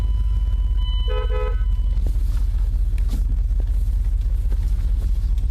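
Inside a 2001 Dodge Ram 1500 Sport, the engine runs with a low steady rumble, briefly overlaid early on by a short electronic chime.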